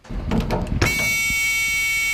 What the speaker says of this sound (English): The alarm sounded loud and clear.